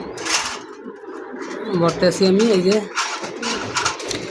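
A large pet pigeon coos in a series of low warbling calls in the middle of the stretch, close by, while someone talks over it before and after.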